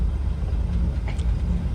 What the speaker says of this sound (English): I'm practicing, and I'm driving this in a 1984 C10 truck